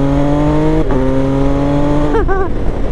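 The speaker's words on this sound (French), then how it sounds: "J'espère que ça s'entend bien au micro, le bruit du moteur." An MV Agusta Enduro Veloce 950 motorcycle engine drones loudly and steadily, shifting pitch once and then rising in a quick rev near the end.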